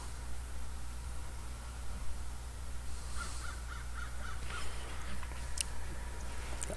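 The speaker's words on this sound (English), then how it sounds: "those two crows were were, were squawking squawking" Two crows caw in a rapid series of repeated calls, somewhat distant, over steady outdoor wind or traffic hum on Amherst Street in Buffalo.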